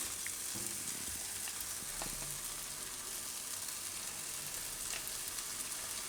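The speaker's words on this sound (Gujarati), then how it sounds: "આ ગ્રેવીને હવે આપણે પાકવા દેવું એકદમ તેલ છૂટું પડે ત્યાં સુધી" Gravy for a raw banana curry cooks in oil, giving a continuous, fairly quiet crackling sizzle with a few soft stirring knocks, steady and close, with no talking.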